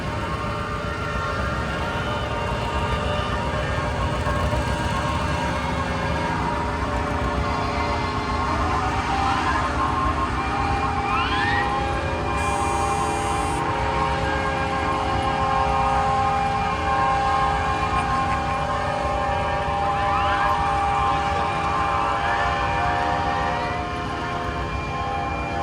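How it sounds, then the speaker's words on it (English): Antique steam engine at a machinery parade sounds a high-pitched whistle in repeated bursts over a constant loud mechanical rumble, with outdoor crowd ambience. "That's that one whistle, that high pitch whistle."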